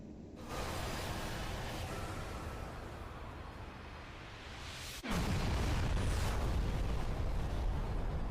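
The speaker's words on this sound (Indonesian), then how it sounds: "tubuhnya meledak dan menjadi kabut yang perlahan menghilang" An explosion in the video game Final Fantasy XII: a loud, sustained roaring blast rumbles continuously, then a sharp crack leads into an even stronger, deeper roar that keeps going.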